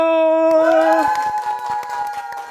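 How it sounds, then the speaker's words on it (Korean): A small group of people claps in a few scattered, sharp claps right after a spoken shout, while a sustained tonal sound fades beneath them. "박수!"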